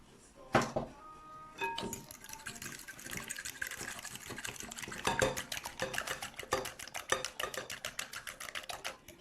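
Tubers mixed with a fork in a bowl, producing a quick run of light scraping clicks that builds into a steady, rapid tapping rhythm close by, with no talking.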